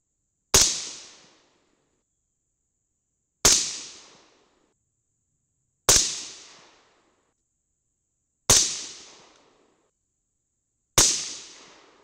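Five sharp rifle shots from a .223 loaded with CCI BR4 primers crack out alone at even intervals of about two and a half seconds, each a loud close report trailing off into a short echo.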